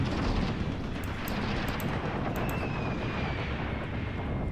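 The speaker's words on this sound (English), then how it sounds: "Oh boy, we've got enemy artillery." Enemy artillery fire in the war game Graviteam Tactics, set in the 1980 Angolan bush war: a dense, continuous roar of distant shelling and rumbling blasts, with faint whistling streaks overhead and no voices.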